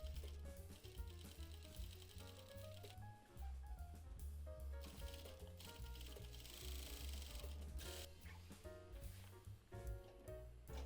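A sewing machine topstitches a double row along a work jacket collar, its motor whirring under loud background music that dominates the mix.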